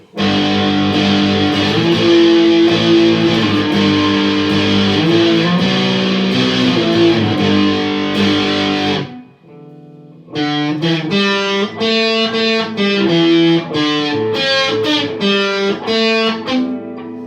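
An ESP LTD EC-256 electric guitar on its bridge pickup, with the coil split off, runs through a Marshall DSL 40C on gain channel. Loud distorted chords and riffs ring out, pause briefly near the middle, then resume with choppier, staccato playing.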